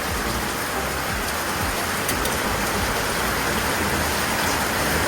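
Steady rain falling near a kitchen, a dense, even hiss of drops with occasional louder patters, fairly close and continuous throughout.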